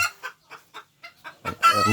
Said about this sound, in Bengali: এই যে আমাদের এই মোরগ শিকারি মোরগগুলো